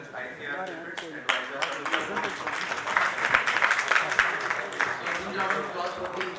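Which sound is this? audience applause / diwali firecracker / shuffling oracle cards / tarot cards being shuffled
audience applause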